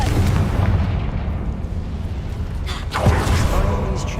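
A Confringo spell detonates in Hogwarts Legacy, a heavy rumbling blast with a sharp burst near the three-second mark, set against game music and a low boom; fairly loud and close.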